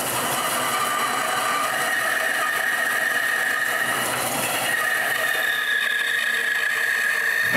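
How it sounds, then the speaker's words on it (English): A homemade wooden bandsaw with a quarter-horsepower motor cuts plywood pieces, giving a steady, loud, continuous whine with a sustained tonal hum running the whole time, no voices. "I can use my new bandsaw for the first time. And the first thing I'll do is cut all the plywood pieces for the trunnion."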